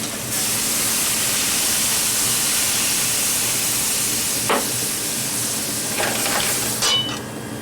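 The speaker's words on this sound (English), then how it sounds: "Then we'll hit it with white wine." White wine poured into a hot pan of lobster and shellfish sizzles with a loud, steady broad hiss of steam close by, followed by a few clinks and clatters toward the end.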